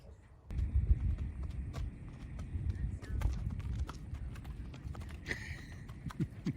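A horse's hooves clip-clop in a steady walking rhythm throughout, close by, with outdoor background noise and some talk mixed in.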